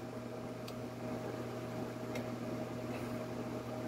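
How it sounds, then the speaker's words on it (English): A constant low electric hum and whir of running fans, steady and unchanging, with a few faint clicks in the background. "sorry for the noise, it's my fans right here."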